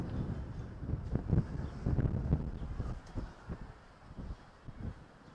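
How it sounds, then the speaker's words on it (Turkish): Wind buffets the microphone in rough, uneven gusts, rumbling loudly then easing off. "Çok fena çok rüzgar var."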